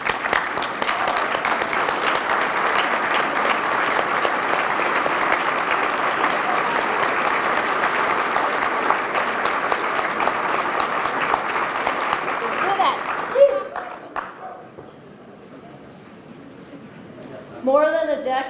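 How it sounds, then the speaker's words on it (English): A large standing crowd gives sustained applause at the opening of the Mountain America Center in Idaho Falls. Dense, loud clapping fills the hall for about thirteen seconds, then drops to near quiet before someone starts speaking. "I want everybody to stand up and give yourselves a round of applause for a job well done"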